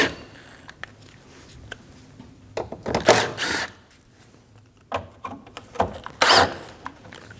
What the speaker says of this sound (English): Using a T25 bit, remove the 3 screws off the front apron.